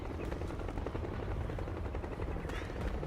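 Helicopter rotors throb steadily in the background of the stealth action game Metal Gear Solid 4, a continuous dense chopping drone with faint gunfire-like clatter mixed in.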